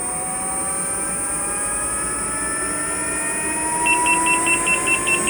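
A steady high whine of a moving electric unicycle, then from about four seconds a quick run of evenly spaced high-pitched warning beeps as it reaches 80% PWM.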